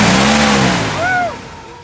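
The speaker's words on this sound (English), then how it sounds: "Rev her up there." A truck engine revs hard and loud up close, its pitch rising and then falling back as the throttle is released, while a voice speaks over the roar.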